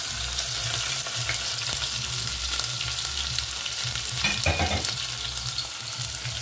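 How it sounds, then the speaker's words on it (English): Dry chilies, onions and garlic fry with cane herbs in a pan, a dense continuous sizzle close by, with stirring scrapes and a brief clatter midway. Nobody speaks. "So now I'll add all my dry chilies, onions, and my garlic all together to braise the herbs."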